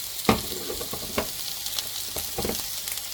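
Chopped onion and ginger sizzle steadily in a hot pan for crab soup, a close, continuous frying hiss broken by a few sharp stirring scrapes and clacks.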